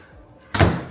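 A single solid thunk of a microwave door shutting, sharp and close, after a moment of near silence.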